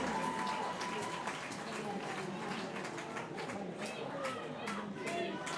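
Crowd cheering and clapping at an Italy vs France match in the mixed open of the European Opens Cup, a steady roar of many voices with scattered claps, with a commentator talking over it.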